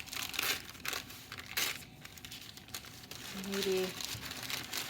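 Plain paper being crumpled by hand, with bursts of crinkling and crushing rustle that come and go close up, while a person talks in the background.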